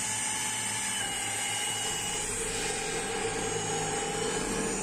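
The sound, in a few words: 32 mm hole saw drilling hole in water tank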